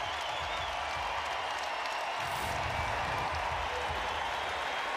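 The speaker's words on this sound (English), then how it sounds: "check out the appreciation from this crowd" A basketball crowd at a Georgia Tech versus North Carolina men's game applauds Garrison Brooks, a dense roar of clapping and cheering that fills the arena steadily throughout.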